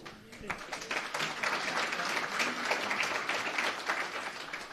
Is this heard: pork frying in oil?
no